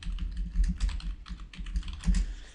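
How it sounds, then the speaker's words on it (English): Someone types a search on a computer keyboard, a close, quick run of uneven key taps with brief pauses between bursts. "So I'm going to type in wedding speeches."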